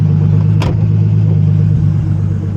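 A turbocharged BMW E36 engine runs during a boost test, holding a loud, steady mid-range drone for the whole stretch, with one short sharp hiss midway.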